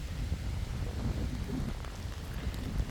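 Steady outdoor rain falls as a dense, even wash with low rumbling underneath, filling the scene continuously without any voices.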